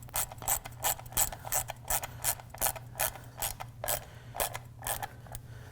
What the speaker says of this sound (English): I'm gonna run them down with just a touch with my ratchet